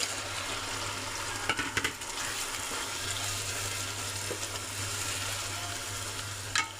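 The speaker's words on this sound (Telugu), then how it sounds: "ఈ రొయ్యలు కూడా కొద్దిసేపు ఆయిల్లో ఇలాగే వేగితే పచ్చివాసన పోయి బాగుంటుంది" Prawns frying in oil with tomatoes in a pan, giving a continuous soft sizzle with a few sharp stirring clinks, fairly faint and steady with no talking.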